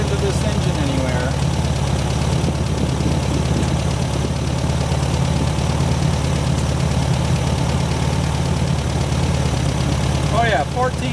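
Air-cooled engine of a 1972 VW Super Beetle running just after its first start, a steady, close idle with a constant low rumble that barely changes throughout.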